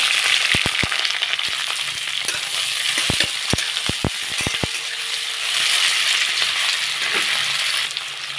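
Four dried red chillies, two bay leaves and sliced onion hit hot white oil in a wok for a pumpkin and prawn dish, producing loud, steady frying with a run of sharp crackles and pops early on.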